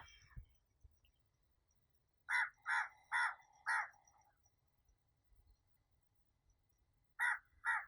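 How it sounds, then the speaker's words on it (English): A crow caws outdoors in a series of four harsh, evenly spaced calls, then falls silent before two more caws close the passage, fairly near and clear against quiet background. "Do you notice the crow? I've never had a crow on my show."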